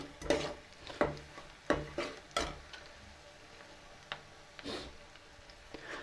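Lauki (bottle gourd) sabzi is stirred as it cooks in a pan in a Himachal kitchen, with a handful of faint, spaced scrapes and clinks over a soft, quiet background and no talking.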